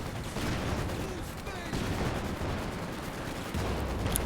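Constant shelling from an artillery barrage in a World War strategy match, a dense, continuous rumble of blasts and crackling fire with heavier bursts at the start, middle and end, with speech faintly under it.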